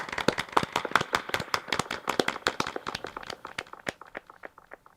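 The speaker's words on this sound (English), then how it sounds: "Yeah, double applause, big time" Sharp, scattered hand claps from a small group cheering a dub musician at a live-streamed show, dense at first and then thinning out toward the end.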